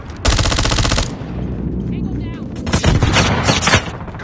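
Heavy automatic gunfire from a Call of Duty Mobile strafe run during a ranked Hardpoint match: a loud, dense burst up front, then crackling shots and another rattling volley, with game voice chatter mixed in.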